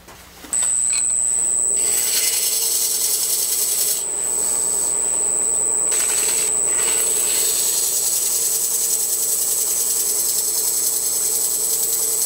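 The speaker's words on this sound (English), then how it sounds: "I'm going to take a little bit of sandpaper, just a little bit, and touch that up." Continuous rasping friction from a spinning wood lathe, with a steady high-pitched whine and brief changes in pressure as sandpaper touches up the bottom of a wooden hollow form.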